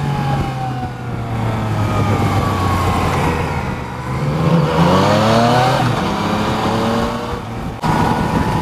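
A 2016 Yamaha FJ-09 motorcycle engine under way on a bumpy, potholed road: a continuous droning motor whose pitch rises and falls with throttle, with loud wind rush and a brief dip near the end.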